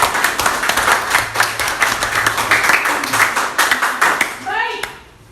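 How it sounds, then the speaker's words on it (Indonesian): A school class claps together after a biology lesson on the immune system, quick dense clapping with voices mixed in, fading out near the end as a teacher's voice comes through. "Oke, berikan tepuk tangan."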